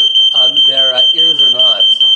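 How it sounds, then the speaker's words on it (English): A fire alarm sounds with a loud, steady, high-pitched electronic tone that continues throughout, while people talk over it up close. "continuing after that fire alarm, and now my ears are ringing"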